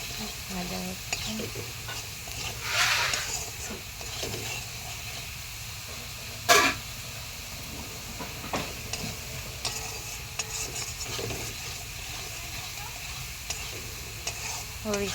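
Potatoes with turmeric, salt and green chili sizzle steadily in a pan, with repeated stirring scrapes and one sharp clatter partway through.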